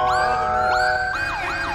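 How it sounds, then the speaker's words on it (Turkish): Wailing ambulance siren in GTA 5, sweeping up and down in repeated rising and falling cycles, loud and close with steady engine hum beneath and no voices. "Ambulans geldi."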